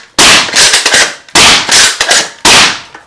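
A 3D printed Captain Slug Nerf blaster fires three sharp, loud shots about a second apart, each a burst followed by brief mechanical rattle, with no talking.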